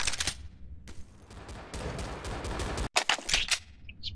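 Desert Eagle pistol fire in Counter-Strike: Source on the de_train map, a string of loud, sharp gunshots packed close together, with a brief gap near the end and then more rapid shots.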